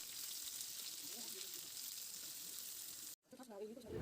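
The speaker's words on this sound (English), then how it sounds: "We are going to add some chopped onion in it, then fry it well." Chopped onion fries with turmeric powder in a pan, producing a steady, close sizzling hiss that briefly drops out near the end, where a voice is faintly heard.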